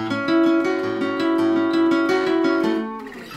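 Guitar playing the first two bars of a song at full tempo. A quick, steady run of ringing plucked notes is heard alone and fades out near the end.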